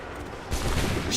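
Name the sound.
soldiers firing guns in the video game Assassin's Creed 3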